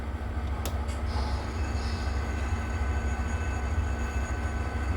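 A steady low diesel rumble of an HO scale Kato P42 model locomotive's DCC sound unit starting up, with a faint high hiss and a brief click near the start.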